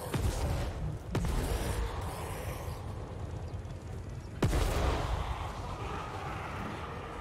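Battle sounds from the strategy game Total War: Warhammer III, with gunfire and artillery against dwarf troops: two sharp loud cracks stand out, one early and one midway, over a dense rumbling wash of combat noise.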